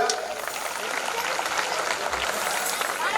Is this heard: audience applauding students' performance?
yes